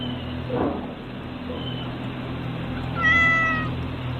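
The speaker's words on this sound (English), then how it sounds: "Thank you for the meow" A cat meows near the end, one drawn-out cry rising and falling, heard over a steady low hum from a doorbell camera recording outdoors, with a fainter sound earlier in the background.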